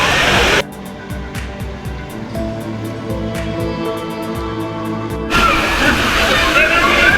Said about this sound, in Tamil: இந்த ஜோனில் இருக்கக்கூடிய பெரிய வாட்டர் ஃபால்ஸுங்க இது